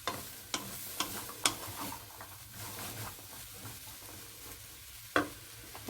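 Vegetables cook in a soup pot with a soft sizzling bed, broken by several sharp spoon clacks and scrapes as they are stirred, close and fairly quiet, no voices.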